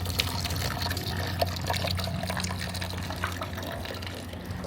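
Weak outdoor water flow at a home in Cebu, a thin continuous trickle and splash running steadily with a low hum beneath it.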